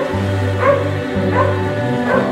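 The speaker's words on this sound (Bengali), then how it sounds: "দেখ, কুকুর এসছে," A dog in an animated children's story about a tiger gives a few yips and whimpering barks, loud and close, over a steady low background tone.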